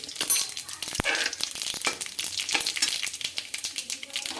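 Mustard and cumin seeds sizzle and crackle in hot oil over a low flame: a dense, bright frying hiss with rapid popping ticks and one sharp knock near the start, close and continuous.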